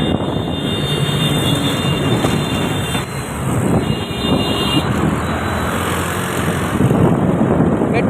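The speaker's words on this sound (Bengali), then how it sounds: "দেখুন গাইজ মেট্রো রেল যাচ্ছে" A metro train passes beside the Delhi Road national highway, a steady loud rushing rumble with a high whine above it, mixed with road traffic noise.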